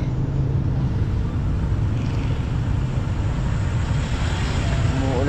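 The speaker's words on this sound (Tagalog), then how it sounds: "So yan mga trops, napaka-traffic." Heavy road traffic in drizzling rain on the way into town, a dense continuous rumble and hiss of engines and tyres, loud and steady with no clear individual passes.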